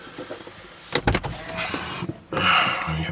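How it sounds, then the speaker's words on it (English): Electric motors in a 2013 Lexus RX 450h F Sport whir as the steering column and seat adjust after shutdown, short mechanical hums with clicks and a thump, close and clear without talk. "You can see the steering moves and the seat moves."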